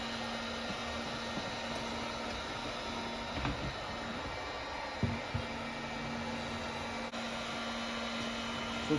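A heat gun warms a dented panel on a Toyota Corolla from the inside, a steady blowing whir with a faint hum running throughout, broken by a few light knocks and clicks.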